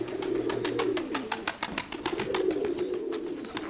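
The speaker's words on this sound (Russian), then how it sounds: "Вот самый первый голубенок." A young pigeon coos in a steady run of soft, rapid pulses, close and clear, with a low rolling coo swelling twice.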